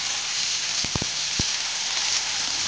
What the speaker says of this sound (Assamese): অকণমান ভাজি ল'ব লাগে পিঁয়াজখিনি